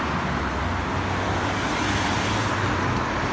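Steady, dense roar of street traffic on Corso Buenos Aires in Milan on a Monday morning, cars and motor vehicles rumbling continuously close by with no pauses, with no voices.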